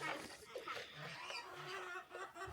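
Chickens cluck and chatter continuously nearby in a Turkish village, a busy flock with overlapping calls and some faint background voices.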